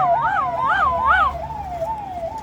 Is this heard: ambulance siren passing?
yes